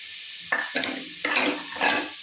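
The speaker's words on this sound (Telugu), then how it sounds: "ఫస్ట్ నెయ్యి వేసి జీలకర్ర పచ్చెనగపప్పు వేసాను." Loud crackling sizzle of cumin seeds and chana dal frying in hot ghee, with four short bursts of spatula stirring scraping against a pan, close by.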